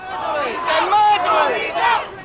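A protest crowd marching back toward Grenfell Tower in London chants and yells in unison, loud and close, with a few overlapping wavering shouts across a short burst.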